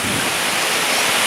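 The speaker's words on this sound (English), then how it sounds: "What a stunning waterfall." Scaleber Foss, a low-flow Yorkshire waterfall, roars as a dense, steady rush of falling water heard up close, loud and unbroken with no other sounds.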